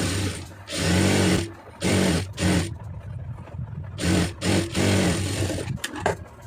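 A sewing machine stitches the seam of a lining blouse in several bursts of steady, close whirring, with short pauses between runs as the fabric is guided.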